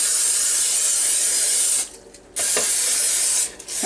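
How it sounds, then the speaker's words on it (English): Pam cooking spray blasted into a Bundt pan, a loud, close, continuous aerosol hiss that stops briefly, resumes, then pauses again near the end, with no talking. "we're just going to spray it real good with Pam"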